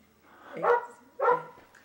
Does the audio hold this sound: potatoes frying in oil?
no